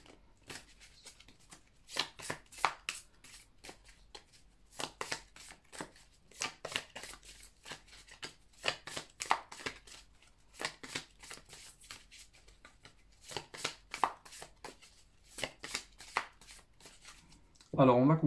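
Tarot cards being shuffled by hand close up, in repeated quick riffling bursts separated by short pauses, with a voice speaking briefly near the end.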